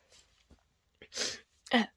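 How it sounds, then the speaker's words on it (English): A faint sniff and small breaths build up before two loud, close sneezes in quick succession. "I'm sorry if I sneeze at the camera."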